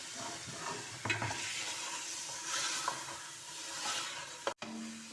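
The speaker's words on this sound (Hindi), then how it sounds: "अब हम डालेंगे ये पाए और इनको अच्छी तरह भूनेंगे" Mutton trotters (paya) frying in a pan give a soft, steady sizzle, with occasional scraping and knocking of a spoon as they are stirred, fairly quiet and close.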